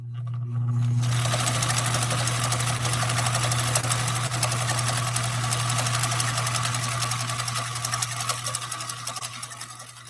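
A sewing machine runs a continuous test stitch on a revised stitch cam, a loud, close, steady mechanical whir with rapid needle rattle lasting about ten seconds without pause.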